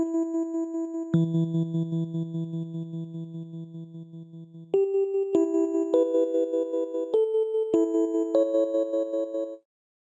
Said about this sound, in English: there's like a kind of like ringing sound going on, almost kind of like a vibrato sound